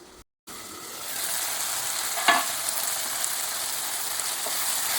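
Tomatoes fry in a pan with a steady, dense sizzle throughout, close and bright, briefly cut to silence near the start and with one faint clink in the middle, no talk.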